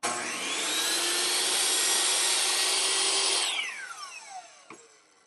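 A Metabo HPT C10FCG 10-inch compound miter saw with its stock blade slices through a board clamped to a workbench, giving a loud steady whine for several seconds before the motor spins down with a falling tone and a soft knock near the end.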